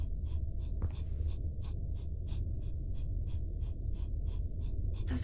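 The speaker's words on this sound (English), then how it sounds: "Something is breathing in here? Very rapidly?" Rapid, panicked breathing in a horror video game, with quick regular huffs about three per second that keep going over a constant low rumble.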